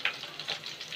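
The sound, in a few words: ginger and bay leaf frying in oil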